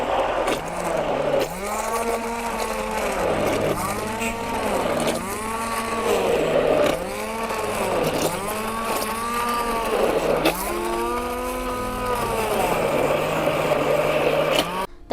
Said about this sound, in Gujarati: હવે આપણે કેરીમાં બ્લેન્ડર ફેરવી નાખવી।